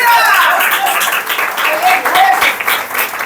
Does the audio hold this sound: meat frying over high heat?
no